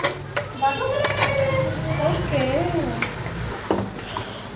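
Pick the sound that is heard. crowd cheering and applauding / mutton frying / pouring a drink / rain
mutton frying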